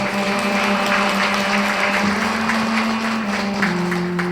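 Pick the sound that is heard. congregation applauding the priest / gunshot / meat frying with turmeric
congregation applauding the priest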